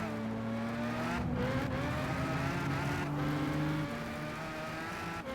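A BMW race car engine in Gran Turismo 5 holds a loud, steady high-pitched drone that climbs and shifts between gears, with brief dips and a whirring tone throughout and no voices.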